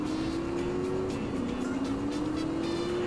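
Game cars race in Grand Theft Auto The Trilogy, a loud sustained engine drone with rising pitch as the car accelerates, filling the clip without pause.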